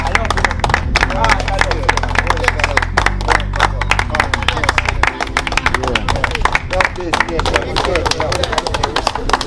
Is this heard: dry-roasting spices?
no